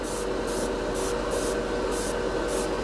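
Createx Wicked Colors chrome paint is sprayed from an airbrush in short repeated bursts, a close, steady hissing with a regular on-off rhythm of about eight pulses.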